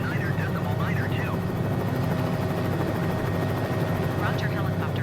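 A helicopter's rotor thumps and engine drone fill the background steadily in flight near Key West, Florida, while a person talks radio calls over it almost continuously.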